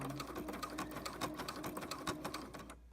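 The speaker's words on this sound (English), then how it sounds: "right now I'm sewing on old stitching" Sewing machine stitching binding: a fast, even mechanical chatter of needle strokes running steadily for about three seconds, close but fairly quiet, slowing at the end.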